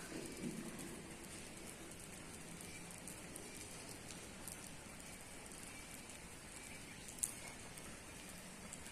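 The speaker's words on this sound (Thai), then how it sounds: "พอดีฝนตกด้วยค่ะ" Rain falls steadily at Wat Khao Sukim, a hilltop temple in Chanthaburi, Thailand. It makes a soft, even hiss of drops with one brief sharper tick near the end, and no one speaks.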